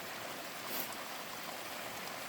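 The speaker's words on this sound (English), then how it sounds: "Most of the water is coming from the French drain." Steady rushing of water pouring out of a French drain pipe in a front yard, a continuous close, even flow with no voices.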